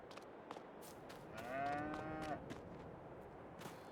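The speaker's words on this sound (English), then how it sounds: "Got your cows in there." Cows in the Farming Simulator 22 video game lowing inside a farm animal pen, two long drawn-out moos overlapping in the middle amid a steady background ambience, with no speech.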